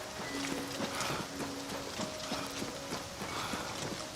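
Horse hooves clip-clop steadily in Oblivion Remastered, a regular rhythmic gait of hoofbeats at moderate distance over faint ambient game sound with a low tone.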